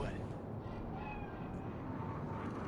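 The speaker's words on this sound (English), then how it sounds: "Do you see it? That cat? Fine-looking feline." Cat in the video game Cyberpunk 2077 meowing faintly a couple of times over a steady wash of city ambience, distant and quiet.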